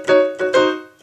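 Solo piano plays the lead-in to the bridge of a gospel song: three sustained chord strikes in a slow, even rhythm, each ringing and fading before the next, close and clear with no voices.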